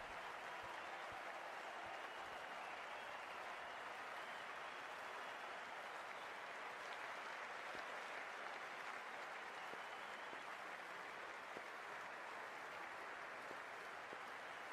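In the Cricket 24 video game, during an MI vs RR match, a stadium crowd applauds and cheers in a steady, unbroken roar that runs evenly through the whole stretch, fairly quiet and with no commentary over it.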